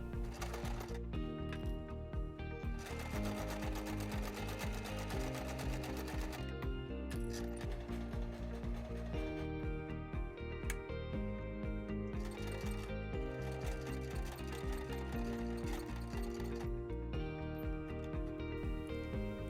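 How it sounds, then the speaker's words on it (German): A sewing machine topstitching close to the edge around a handbag, steady continuous mechanical whirring with a rapid needle rhythm, under background music and without pauses. "Nähe knappkantig außen herum."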